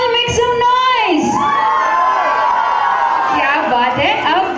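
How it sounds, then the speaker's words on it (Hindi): Wedding guests at a sangeet evening cheer, whoop and shout together, a loud sustained crowd roar with high excited voices rising and falling, some yells standing out over the mass of noise. "Can you all make some noise?"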